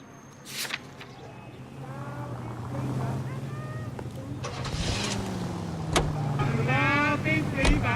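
Engine drone of a car being driven in L.A. Noire, a steady low rumble that builds gradually over several seconds, with people talking over it.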